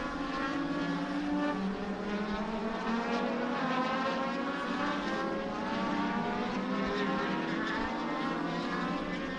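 Legends race cars roar around the small track at Salem Speedway, with a continuous, loud, multi-engine drone of revving motors in the final laps of the race.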